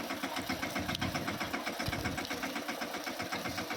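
A small four-wheel farm mini tractor engine chugs steadily nearby, a rapid rhythmic knocking putter with a constant mechanical drone.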